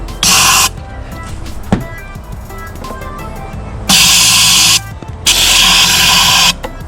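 Starting fluid sprayed into the carburetor intake of a Honda outboard motor comes as three loud, close hissing bursts, the first short and the last two longer, with quieter handling noise between them.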